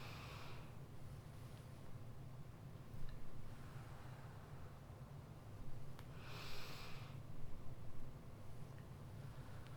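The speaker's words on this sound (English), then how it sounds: "Breathe in for 4, hold it for 4, breathe out for 4." Slow deep breathing in a 4-4-4 pattern, a faint inhale and exhale of air around three seconds and again between six and eight seconds, close over low background hum.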